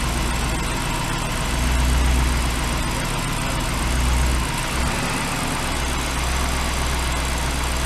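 A BMW 645ci convertible engine runs at a steady idle, loud and close, with a couple of gentle swells where a little gas is given before it settles back.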